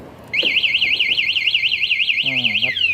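A loud warbling electronic motorcycle anti-theft alarm siren on a Honda Wave 125 wails in rapid up-and-down sweeps for a couple of seconds, then cuts off into a lower buzzing tone.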